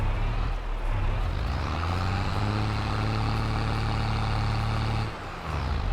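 A tractor engine strains while pulling in a farming video game, a loud, steady low drone that holds for several seconds, then eases off briefly before rising again.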